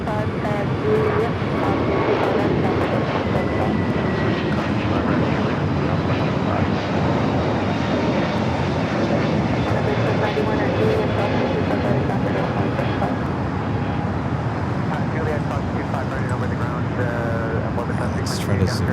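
An Air New Zealand airliner bound for Auckland taxis at LAX, its engines producing a steady, broad roar that holds evenly throughout.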